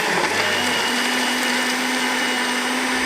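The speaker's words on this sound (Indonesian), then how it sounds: "Sudah di blender kira-kira setengah menit, nanti jadi." An electric blender whirs steadily as it blends a thick herbal drink with fruit and fermented tape, a loud continuous motor drone with a faint higher whine, close and uninterrupted with no talk.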